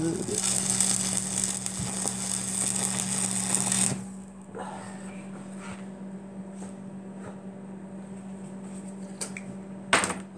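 A welder burning into wood: a loud, dense buzzing crackle with a steady low hum for about four seconds, then stopping and leaving a quieter hum with faint clicks and a sharp knock near the end.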